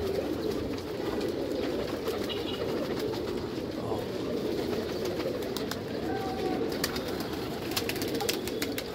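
Pigeons in a loft coo steadily in a dense, continuous murmur, with occasional wing flutters and scattered clicks close by.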